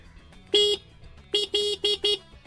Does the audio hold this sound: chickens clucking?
no